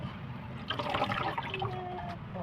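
Raw fish is rinsed in water while being prepared for kinilaw, giving close splashing and sloshing that swells and settles with small trickles, and no one speaks.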